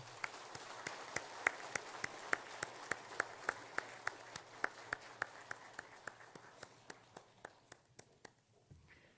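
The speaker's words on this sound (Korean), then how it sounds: "여러분 큰 박수로 가는 길 축복해 주시기 바랍니다" Church worshippers clap together in a steady unison rhythm, each sharp beat evenly spaced, before the clapping thins and fades out at the end.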